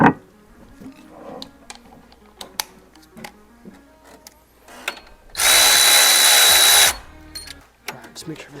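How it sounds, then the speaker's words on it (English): A power wrench whirs loudly for about one and a half seconds while the serpentine belt on a 2006 Chevrolet Equinox is being changed. Scattered clicks and metallic handling noises come before and after it, and someone talks briefly. "I'm going to use my wrench over here real quick."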